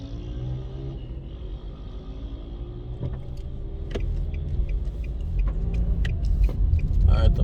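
A car driving at night along Waltham Park Road toward Half Way Tree, its steady road rumble and engine drone continuous throughout, growing slightly louder toward the end with occasional small clicks and knocks.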